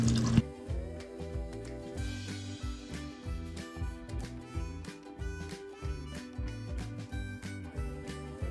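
Water trickling and splashing steadily as it fills an axolotl pond clarifier, a continuous close pour with rhythmic dripping and gurgling pulses throughout.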